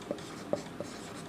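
Pen writing on paper during a class 10 maths lesson: soft, close scratching strokes with a few light taps, quiet and without talking.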